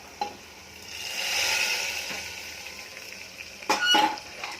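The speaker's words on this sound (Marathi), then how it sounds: "आता त्याच्यामध्ये लसूण तळलेला टाकून द्यायचा" Fried garlic hits cooked greens in a pan with a soft swelling sizzle, followed by a few sharp clinks and stirring noises near the end, heard close and fairly quiet.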